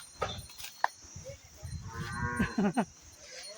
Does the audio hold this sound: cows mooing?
yes